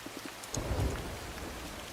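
Steady rain pours in the video game Moonlight Peaks, a dense even hiss of falling drops that swells slightly with a soft low rumble, heard on its own with no talk.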